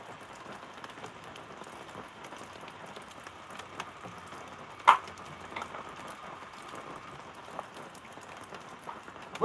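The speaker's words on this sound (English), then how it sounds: "can you guys hear the raindrops out there?" Steady patter of raindrops falling outdoors in a mountain area, a soft continuous hiss with a few sharper drips, heard alone at low level.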